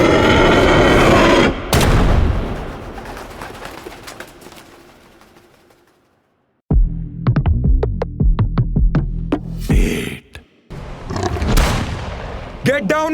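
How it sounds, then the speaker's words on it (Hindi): Gunshots in a dark forest in an audio drama: a fast, sharp volley of loud cracks after a spell of fading music and near silence, with bird coos and other effects around it. "गोलियों की आवाज सुन के"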